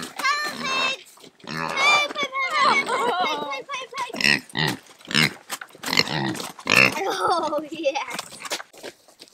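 Pigs oink and grunt repeatedly while being moved into a new field, their snorts mixing with people talking and coaxing them along close by.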